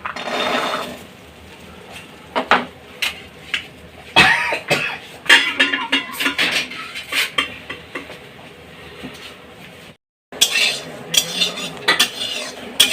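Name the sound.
green peas dry-roasting in an empty wok, stirred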